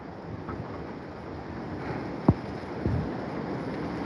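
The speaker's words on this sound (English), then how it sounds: "Extreme rain, winds sustained at 100 at times, gust of 125" Hurricane winds in Santa Cruz, Jamaica, with sustained gusts and extreme rain, roar as a steady low rumble of buffeting wind, broken by a sharp knock and a brief surge partway through.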